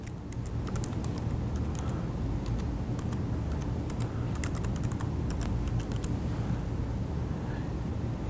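Steady typing on a computer keyboard while an email address is entered into a Facebook account settings page, with irregular close clicks throughout under a constant low background rumble.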